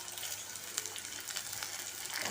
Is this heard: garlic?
yes